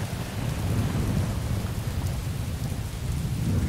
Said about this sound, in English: and as you can see, it often rains.